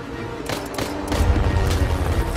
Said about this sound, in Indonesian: Dengan sigap, Zuko membalas tembakan tersebut hingga berhasil membuat heli Tiger menjauh.